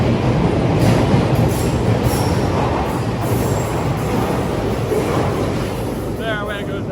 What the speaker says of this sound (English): There, where goes that train.